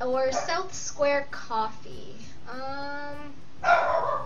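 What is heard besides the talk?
dog barking in the background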